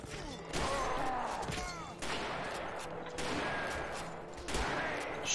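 Rifle fire in a 19th-century battle in Mount and Blade 1866, several loud sharp volleys spaced about a second apart over a continuous noisy background of combat.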